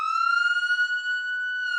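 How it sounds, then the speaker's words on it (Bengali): A steady electronic ambulance siren tone holds at one pitch, clear and fairly close, with no voices. "অ্যাম্বুলেন্সের আওয়াজ।"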